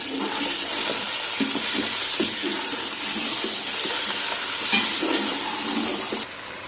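Loud, steady sizzling of chicken frying in hot oil for Sindhi biryani, with occasional stirring and clatter, continuous throughout and no talking.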